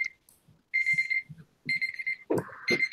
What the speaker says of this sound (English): Bedtime alarm.